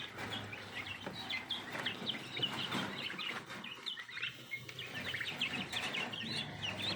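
Bangkok chickens on a small poultry farm cluck and chirp continuously, many birds calling at once at moderate distance, with no talk over them.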